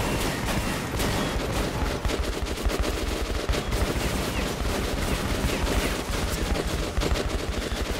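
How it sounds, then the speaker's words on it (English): Sustained gunfire shootout in the video game Metro 2033, dense rapid automatic bursts and shots filling the whole stretch at a steady loud level with no pauses. "Classic shootout."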